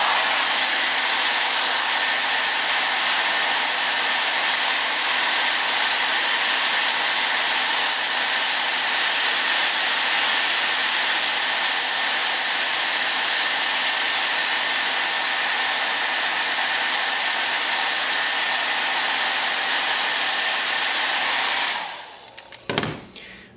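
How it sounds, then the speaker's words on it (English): A hair dryer blows steadily on shrink-wrap battery wrappers of a laptop battery pack, a loud, constant whooshing roar for over twenty seconds before it cuts off with a few handling clunks. "So I have a hair dryer, and I'm going to see if I can't shrink those back up again."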